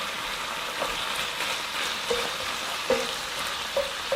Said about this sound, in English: It's going to take a little while for this sausage to cook.